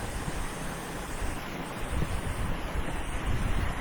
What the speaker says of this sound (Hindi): हवा चल रही है, तेज हवा चल रही है।